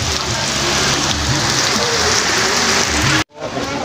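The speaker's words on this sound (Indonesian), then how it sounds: "saya tinggalkan karena hujan begitu deras" Heavy rain pours steadily onto a lakeside fishing spot in Depok, Indonesia. The downpour is a loud, dense hiss that stays constant and close, then cuts off abruptly near the end before fading back in.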